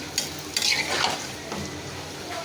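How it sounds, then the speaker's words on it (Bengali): Taro stolons (loti) cooking in a pan with garlic, ginger paste, green chilli and onion are stirred, giving a few scraping, clattering strokes against the metal over a soft, steady sizzle. "কষানো হয়ে গেছে আমি লতিরা রান্না করতেছি"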